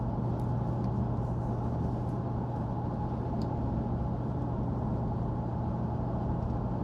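A Jaguar XK8 driving along a smooth road in sport mode, its engine and exhaust giving a steady, unbroken low drone heard from inside the car, with no speech.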